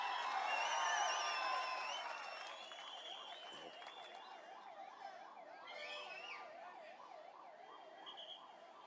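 An ambulance siren wails past a crowded outdoor political rally, its rising and falling tone repeating steadily after a burst of crowd noise and carrying on over the murmuring crowd.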